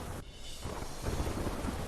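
Heavy rain pours down in rural Gir, Junagadh, a loud, continuous broadband roar with low rumbling and wind buffeting on the microphone.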